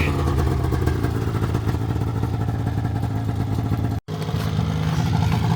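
A Polaris Indy 700 XC snowmobile engine idles steadily and loudly nearby with a rattling, throbbing low rumble, briefly cutting out for an instant before continuing.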